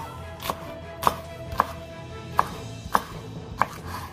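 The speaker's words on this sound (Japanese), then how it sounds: "おかわかめを1センチ幅に切ります。" Knife cutting blanched okawakame (Madeira vine) leaves into 1 cm strips on a cutting board, six crisp chops spaced evenly about half a second apart, close and clear with no talking.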